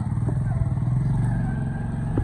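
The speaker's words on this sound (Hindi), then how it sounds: "स्कूटर निकाल लिया है, अभी जाते हैं बाहर सिट्टे लेने" A scooter being taken out and ridden in a village, its engine running close with a steady low drone and slight revving, while a voice talks over it.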